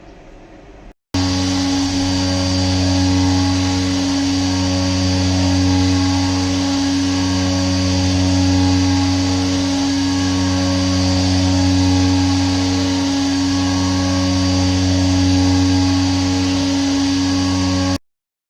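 Steady, loud mechanical drone of a milling machine roughing out metal for a DIY fifth-axis trunnion, strong low hum and whining tones, continuous machining noise running without pause after a brief quiet start.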